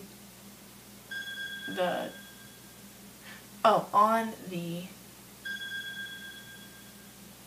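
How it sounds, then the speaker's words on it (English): A household phone gives off a tonal electronic ringtone, two short sustained beeping bursts heard at moderate level while a person talks near the microphone. "ignore that, that's my dad's phone going off"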